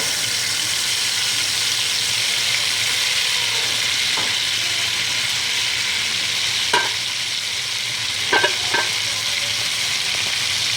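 Cornmeal and spices fry in hot oil with a steady, dense sizzle throughout, close and even, broken by a few light clinks of a utensil against the pot.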